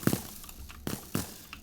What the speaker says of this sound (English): here's some satisfying noises you're gonna get from me breaking these